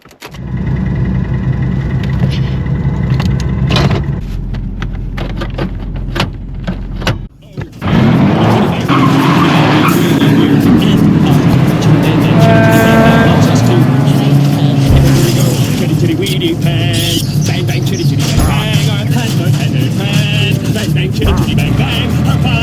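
A car driving down the road, steady engine and road rumble that drops briefly then resumes strongly, with music playing inside and people talking over it.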